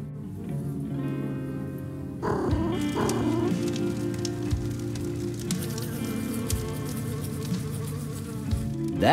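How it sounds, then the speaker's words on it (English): Wasps swarm and buzz nearby in a spot full of them, a continuous droning hum with wingbeats rising and falling as they fly past. "It's full of wasps."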